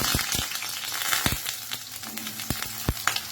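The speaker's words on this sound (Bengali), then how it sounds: "বড়ি ভাজা তেলের মধ্যে দিয়ে দিলাম বেগুন" Eggplant pieces fry in oil left from frying lentil dumplings, giving a close, steady hiss with scattered sharp spatula taps and stirring knocks.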